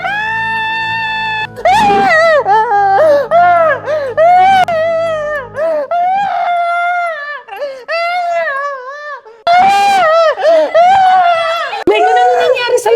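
A girl screams and wails in a horror drama, with long, high, piercing cries broken by sobbing gasps over about thirteen seconds, loud and close, alone without other voices.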